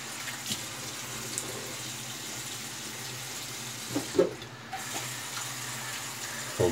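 Steady cool water running from a tap, a continuous broadband hiss with a few soft clinks and splashes partway through.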